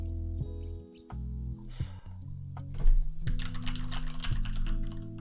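Fast clicking of a computer keyboard, close and steady, with an irregular typing rhythm that gets denser and louder toward the end, alone without speech.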